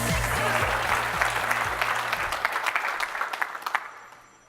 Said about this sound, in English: the amount of applause I got on the first time was not enough